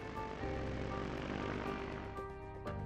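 A DJI M300 drone flies over a large solar farm in the UAE, its steady propeller whine and tonal hum loud and continuous throughout.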